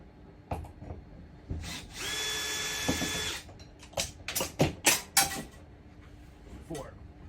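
During an RV lock installation, a power drill whirs steadily for about a second, followed by a quick series of sharp clicks and knocks as screws and parts are handled. A voice speaks briefly nearby.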